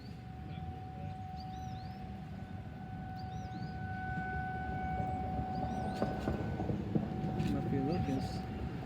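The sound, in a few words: distant tornado warning siren, Federal Signal 2130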